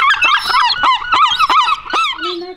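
Many seagulls at a rooftop colony cry out in loud, close squawks and yelping calls that overlap for a few seconds, with no talk.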